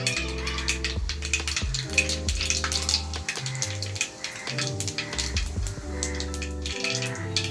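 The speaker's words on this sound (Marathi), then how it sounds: "त्यानंतर आपण ॲड करणार आहे जिरं" Cumin seeds frying in hot oil in a kadhai along with already crackling mustard seeds give a steady, spitting sizzle that runs throughout beneath louder background music.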